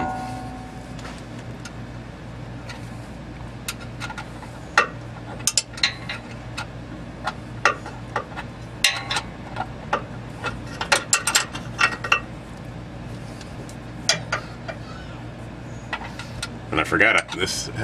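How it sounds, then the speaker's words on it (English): A hand ratchet wrench, 7/16 inch, tightening bolts on the universal joint of a 2003 Chevy Avalanche, giving sharp clicking bursts in uneven runs over steady background hum, with a louder cluster near the end. "This has a ratchet action on these that I can use."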